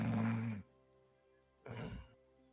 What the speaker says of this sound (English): That I can still hear Vati snoring.